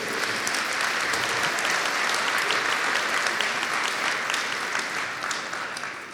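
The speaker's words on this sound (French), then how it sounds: "Vous pouvez déjà les applaudir encore une fois." Dense, steady applause from a large crowd at a transport company inauguration, sustained throughout and tapering slightly at the end.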